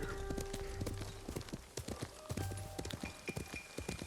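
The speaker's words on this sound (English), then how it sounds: "Let's go ahead and steal this white horse." Horse hooves clip-clop in steady rhythmic beats in Ghost of Tsushima as a white horse moves along, close and fairly loud against a soft ambient bed, with a brief whinny-like tone.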